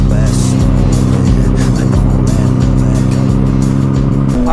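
Yamaha FZ09 (MT-09) naked motorcycle fitted with winter tires, its engine droning steadily and loudly throughout while riding, with strong low rumble, a few subtle rises in pitch, and wind noise over it.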